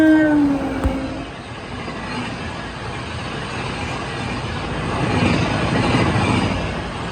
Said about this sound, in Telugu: అటు నుంచి కూడా ఏదో ట్రైన్ వెళ్తుంది.